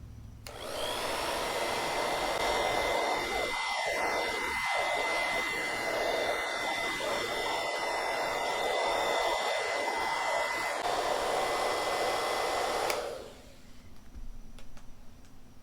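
A household hair dryer runs continuously at close range for about twelve seconds while warming adhesive on a motorcycle helmet, giving a steady whooshing whine that cuts off abruptly near the end, with no talking.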